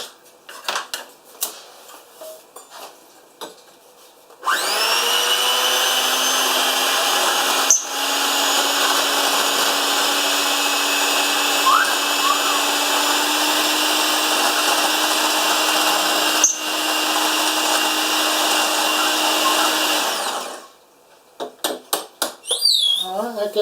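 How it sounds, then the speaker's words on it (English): An electric whisk mixes batter for sweet and sour pork balls, a steady high-pitched whine running for about fifteen seconds with brief dips. Handling clatter and kitchen sounds come before and after it. "I've got my electric whisk in now."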